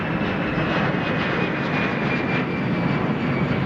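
American Airlines jet airliner departing, a steady loud roar of jet engines with broad rumbling noise and a faint high whine, continuous throughout with no voices.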